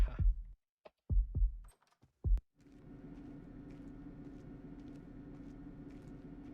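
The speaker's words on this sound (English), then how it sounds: "I think that's the only time they use that heartbeat, like, sound effect." Heartbeat sound effect from the 2002 video game Splinter Cell: a few deep, muffled thumps in an uneven pulse, loud and close, followed by a low steady ambient drone.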